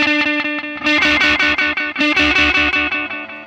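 Electric guitar run through a delay pedal placed before a distortion pedal, giving a thick, saturated tone with repeating notes that smear together; loud, rhythmic picked phrases in two bursts, then ringing out.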